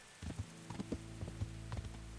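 Horse hooves clip-clopping on the ground in the medieval video game Kingdom Come: Deliverance, several soft uneven steps heard alone at a moderate distance.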